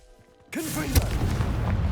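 A Confringo fire spell cast in Hogwarts Legacy inside a dusty, cobwebbed room, bursting in abruptly as a loud whooshing blast with a rumbling tail that stays full and sustained, following a brief quieter moment.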